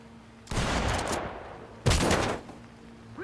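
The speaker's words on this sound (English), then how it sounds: "Shoot the lock, then clear." Shotgun-style blasts at a door lock during a tactical breach in the video game Ready Or Not, two loud booming shots about a second and a half apart, each trailing off in a rumbling decay.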